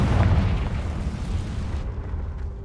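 A booming spell explosion from a Harry Potter video game, a heavy low rumble that swells at the start and then lingers as a rolling roar, loud and close, fading slightly toward the end.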